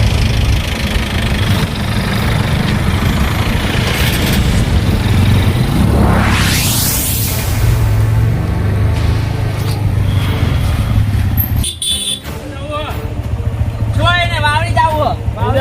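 A motorcycle engine is started and runs steadily at idle, close and loud, with a brief revving sweep, then a voice speaks over the rumble.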